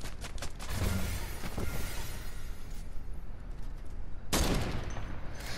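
Rapid bursts of minigun fire in a video game crackle in dense volleys, with a long stuttering stream early, a quieter lull, then another loud burst near the end, and no speech.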